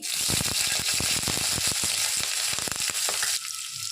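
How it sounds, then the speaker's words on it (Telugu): Green chillies fry in hot oil with a loud, close, continuous sizzle full of sharp crackling pops, then suddenly quieten near the end, with no voices. "ఆయిల్ వేడైన తర్వాత పచ్చిమిర్చి"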